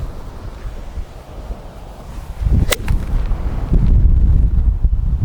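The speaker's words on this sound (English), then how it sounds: "I hope that the wind will die down" Strong outdoor wind gusting hard against the microphone at roughly 60 km/h, a steady roar that surges louder and rougher midway and peaks near the end, with a brief sharp crack partway through.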